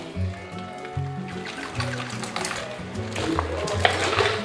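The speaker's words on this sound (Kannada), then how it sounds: "ಸ್ವಲ್ಪ ಫ್ರಿಜ್ನಾಗ ಕೋಲ್ಡ್ ನೀರಿದ್ರೆ ಕೋಲ್ಡ್ ನೀರು ಹಾಕೋರಿ." Cold water from the fridge poured into a milkshake of milk and cream, a soft trickling fill heard faintly and close for a few seconds.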